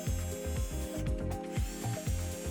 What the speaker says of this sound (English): I opted to drill and tap some M4 screws into the sheet instead of the self-tapping screws included in the kit.